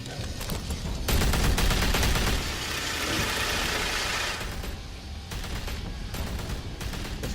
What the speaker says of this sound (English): Just random bullets.